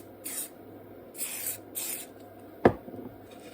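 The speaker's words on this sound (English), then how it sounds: "Then I'll take the accelerator and just spray it on here." An accelerator spray is spritzed onto a carving setup in three short hissing bursts, close and fairly quiet, followed by a sharp tap, with no talking.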